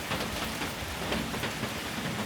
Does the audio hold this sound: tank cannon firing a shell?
no